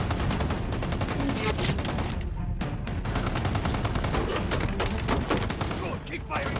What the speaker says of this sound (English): Keep firing that gun. Bring them down.